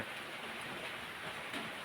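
Steady rain falls around a home, a soft, continuous hiss of drops with no breaks or voices, heard at low volume throughout.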